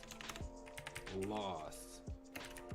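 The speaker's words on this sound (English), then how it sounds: "I'm literally just typing anything" Keystrokes on a computer keyboard tapped out in scattered clicks while someone practises CSS coding, heard under a person talking nearby.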